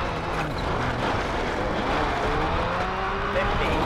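A rally car in the PS2 game WRC: World Rally Championship, racing the Acropolis Rally, drones with a steady engine note under sustained acceleration, its pitch slowly climbing, while a voice talks over it.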